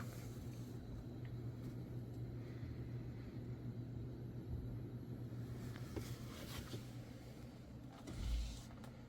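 Gaming PC graphics card cooling fans spin up to a steady, low whirring hum at below-medium speed, with a faint constant tonal drone and a brief louder bump near the end, no voices.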